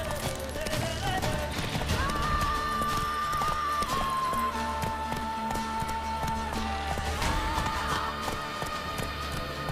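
Hoofbeats of a galloping horse in The Witcher 3: Wild Hunt, a steady driving clip-clop rhythm running throughout under game music and ambience, with loud, dense sound and no talk.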